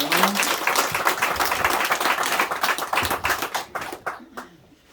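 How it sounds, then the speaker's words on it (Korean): A church congregation clapping in praise at a Sunday morning worship service, a lively burst of many hands with uneven rhythmic accents that tapers off into a few scattered final claps. "하나님께 영광의 박수를 올려드리겠습니다"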